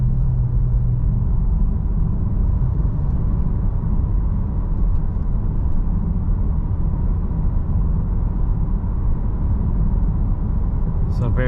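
Steady low road and engine rumble from inside a 2023 Nissan Qashqai e-POWER cruising smoothly at 70 km/h at night, a constant drone throughout with a brief higher click near the end.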